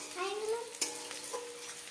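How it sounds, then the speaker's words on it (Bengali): Onion paste frying in hot oil while being stirred, a steady close sizzle broken by a sharp scrape of the utensil in the pan partway through, with faint voice-like tones drifting in the background. "এবার পেস্ট করেছি যে পেঁয়াজটা ওটা দিয়ে দিল। নাড়িয়ে নিল, একটু খানিকক্ষণ ভেজে নেবে"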